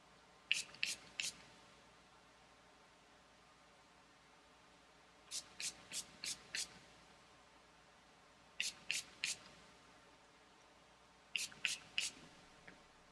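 Quick bursts of a hand spray bottle misting colour gloss onto hair, fired in four groups of three to five sharp spritzes each, close and crisp with quiet pauses in between and no talking.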